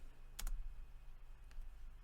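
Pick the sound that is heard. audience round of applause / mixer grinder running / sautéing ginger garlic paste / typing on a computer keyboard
typing on a computer keyboard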